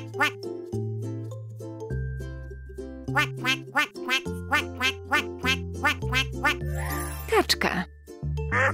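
A duck quacks in a run of short, bright calls over a steady jingly children's tune, fairly close and repeated rhythmically throughout.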